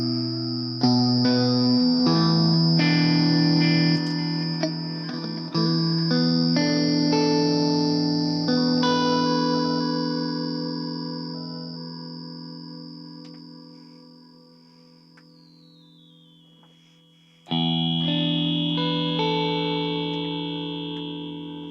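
Guitar through a BOSS GT-1000 ring modulation effect, metallic clangorous chords with inharmonic overtones ringing out and slowly decaying, a sustained tone sliding down in pitch, then a fresh loud strum near the end.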